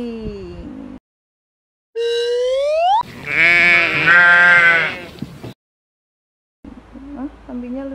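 A person imitates a goat's bleat during a stuffed animal naming game, one long wavering bleat set between short bits of speech.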